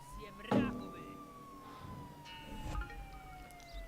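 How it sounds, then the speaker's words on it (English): A police siren wails in the Contraband Police video game, a steady gliding electronic tone running under voices and a few thumps and clatters. "I'll just turn this blasted siren off."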